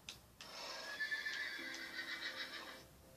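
A horse in the Minecraft video game neighs once in a long, wavering whinny lasting a couple of seconds, clear and alone against a quiet background.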